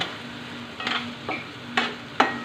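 Tomato frying with cumin powder in a pan gives a low steady sizzle, broken by three or four sharp spatula scrapes as it is stirred.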